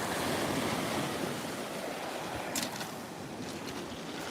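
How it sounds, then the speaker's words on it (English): Ocean waves wash in on a stony shore with quartz and quartzite pebbles, a steady broadband surf roar with some wind buffeting the microphone, no voices. "waves are coming in"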